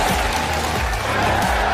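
An audience at a 2020 twentieth-anniversary corporate celebration breaks into a dense, steady wash of applause and crowd noise, loud and continuous throughout with no pauses.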